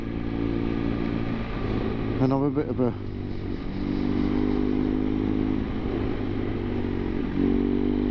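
Steady motorbike engine drone on the A591 road in the English Lake District with wind rush, a voice talking briefly over it.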